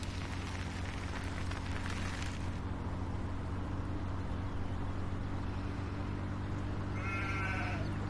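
A sheep in Farming Simulator 17 bleats in short wavering cries over steady background hum and faint patter, with a brief higher bleat near the end.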